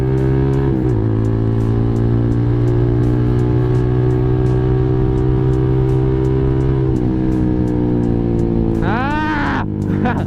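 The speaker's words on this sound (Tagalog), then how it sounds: "Daming sasakyan." Steady loud engine drone from a nearby vehicle, with a sharp sweeping whoosh near the end as traffic passes close by.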